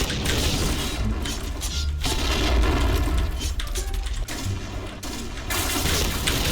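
Grenade explosions in the online shooter Point Blank mix with heavy bursts of gunfire, giving a dense, loud barrage of booms and rapid shots that goes on throughout.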